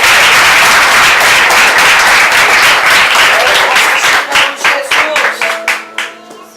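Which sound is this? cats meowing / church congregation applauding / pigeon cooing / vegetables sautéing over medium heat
church congregation applauding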